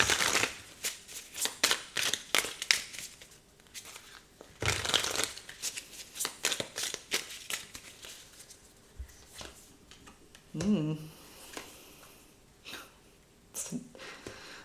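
Tarot cards being shuffled by hand, close up, in repeated crisp riffling and flicking bursts with short pauses between them and no talking.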